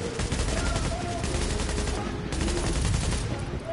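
Sustained automatic gunfire from a hard mission in the video game The Division, dense and loud, with rapid overlapping bursts running through the whole stretch with hardly a pause.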